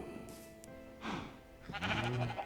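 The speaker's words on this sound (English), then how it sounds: "There's a sheep in the chicken pen." Sheep bleating in the Minecraft video game, two short bleats from a sheep that has wandered into a chicken pen, over faint background game sound.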